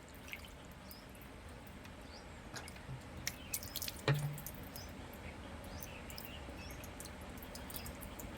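Small splashes and drips of water being poured into a miniature lotus pot, faint, irregular trickles over quiet background hiss with no talking.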